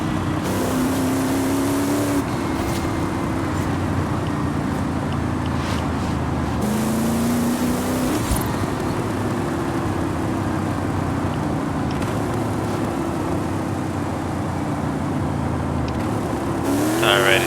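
Race car in Forza Horizon 5 held at full throttle while brake boosting, a loud, steady engine roar with brief rising gear shifts over about seventeen seconds, under a voice.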